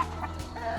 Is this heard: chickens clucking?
yes